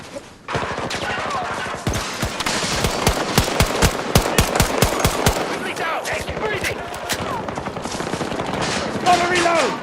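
A braced pistol fires in Battlefield 2042 on PS5, a fast, evenly spaced string of loud shots in one sustained volley, then scattered battle noise continues.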